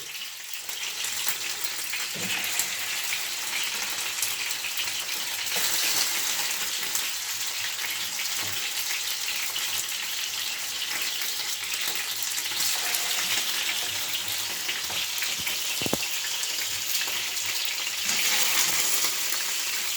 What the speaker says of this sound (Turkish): Evet, yağ atlıyor dikkat edeceğiz.